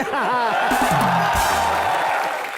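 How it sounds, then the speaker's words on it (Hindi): A crowd at a televised Hindi comedy show cheers and whoops loudly after a dance, with voices calling out over the noise throughout the short burst. "जेलस जुले के डांस के लिए जोरदार तालियां दोस्तों"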